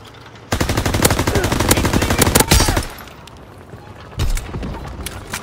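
Rapid automatic gunfire rattles loud and close in the World War II shooter Call of Duty: WWII, a dense burst lasting about two seconds followed by a shorter volley, with game noise underneath.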